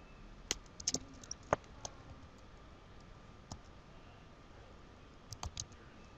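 Sparse, quiet keyboard keystrokes and mouse clicks at a computer during network setup, several isolated taps and a small cluster near the end, with no talking.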